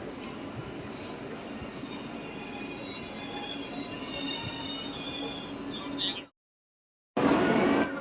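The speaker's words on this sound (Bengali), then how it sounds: "আর এই আমাদের কান্ডারি এক্সপ্রেস দীঘা স্টেশনের 3 নম্বর প্ল্যাটফর্মে ঢুকছে।" Kandari Express train pulling into platform 3 at Digha station, a steady rumbling roar of wheels and carriages with faint squeals, heard from the platform, briefly cutting out before resuming loudly.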